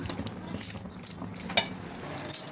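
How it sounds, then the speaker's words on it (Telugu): Pasta being stirred with sauce in a metal pan, a few light scraping clinks of a spoon against the pan at irregular intervals, close and quiet. "ఇవన్నీ దీనికి పట్టేటట్టు బాగా కలుపుకోవాలి"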